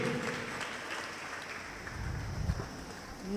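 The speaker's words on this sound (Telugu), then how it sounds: "గట్టిగా చప్పట్లు కొట్టి కూర్చో" A congregation at a church prayer service claps together in a dense, steady patter that sounds fairly soft and a little distant, rising slightly toward the end.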